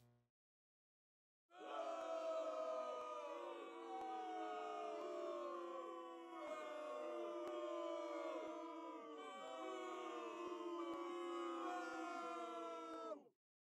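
A virtual arena crowd in the NHL 23 hockey game booing loudly, a sustained droning chorus that swells in three long waves for about twelve seconds before cutting off.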